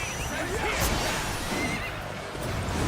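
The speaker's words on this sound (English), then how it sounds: "Horsey." A horse in Dynasty Warriors Origins gives a sharp whinny amid game battle noise and hoofbeats, fairly quiet, with a voice speaking over it.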